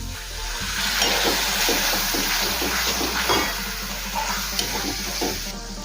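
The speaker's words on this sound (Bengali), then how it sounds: "আবারও কিছুক্ষণ সময় নিয়ে মশলাটা কষিয়ে নেব।" Korma masala spices being sautéed in a pan, a steady sizzle and hiss with soft scraping stirs in a rough rhythm, close and moderately loud with no talk.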